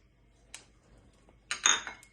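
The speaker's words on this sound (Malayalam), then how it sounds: "നമ്മൾ പാൻ വെച്ച് ഇനി അതിനകത്തോട്ട് നമുക്ക് വെളിച്ചെണ്ണ ഒഴിച്ചു കൊടുക്കാം" A pan is set on a kitchen stove before coconut oil goes in for a fish biriyani: a soft metallic tap, then a louder close cluster of clinks and clatter against a quiet background.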